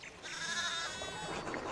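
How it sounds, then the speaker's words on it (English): Sheep bleating in the video game Pentiment, a steady overlapping chorus of bleats from a flock running loose, fairly close and continuous with no talk over it. "sheep have run amok."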